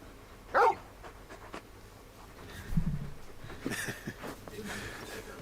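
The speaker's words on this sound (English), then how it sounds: "Just a big puppy, aren't you? A very big puppy." A large dog in Final Fantasy XVI gives a short whimper and a few soft yips and snuffles, close and moderately loud, with quiet background sound between.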